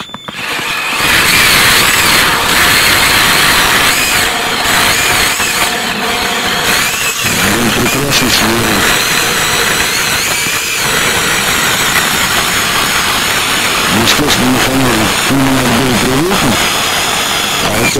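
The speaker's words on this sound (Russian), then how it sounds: "Ну вот он, китайский шуруповерт, вполне нормально работает. Да, вот с такими ножами." A cordless Chinese screwdriver drill spins a budget battery-powered ice auger fitted with proper blades, giving a loud, continuous motor whine with rising squeals through the whole stretch while someone talks over it.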